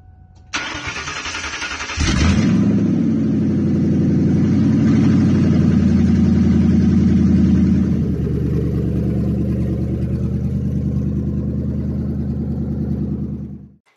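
A 2003 Ford Mustang GT with a 4.6-litre two-valve V8 running open manifolds and no exhaust cranks and catches with a loud, throaty roar, then settles into a rough, rumbling idle that carries on close by until it shuts off.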